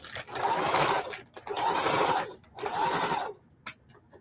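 A sewing machine runs a straight stitch through feedbag fabric in three close, loud bursts of rapid mechanical whirring separated by short pauses, with no talking.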